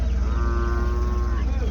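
A water buffalo at an Erode cattle market gives one long, steady, drawn-out moo lasting well over a second, close to the microphone and clearly heard over a low rumble of background noise.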